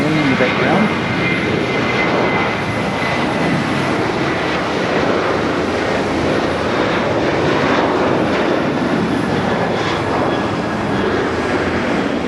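A Korean Air jet airliner rumbles in the background at Haneda airport, its loud, steady engine roar filling the whole stretch, with someone talking over it at times.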